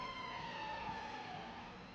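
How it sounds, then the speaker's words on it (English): An ambulance siren wails outside, holding a steady, fairly distant tone for the whole stretch with no voices over it. "That ambulance is being a bit over dramatic, don't you think?"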